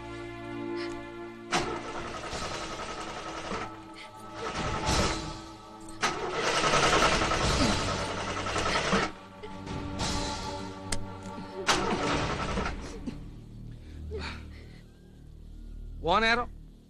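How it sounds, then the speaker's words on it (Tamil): A car engine cranks repeatedly without catching, in several loud grinding bursts with pauses between attempts and a short rising whine near the end, while voices talk over the attempts. "நேரம் வண்டி கூட ஸ்டார்ட் ஆக மாட்டேங்குது"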